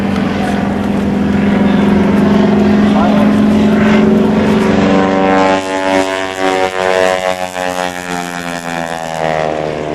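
A propeller plane flying a barrel roll at an airshow drones loudly overhead, its engine pitch rising and sweeping as it maneuvers, then easing into a wavering, fading hum.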